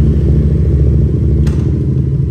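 A used motorcycle engine runs at a loud, close, steady idle with an even low throb and a faint mechanical clatter, alone without speech.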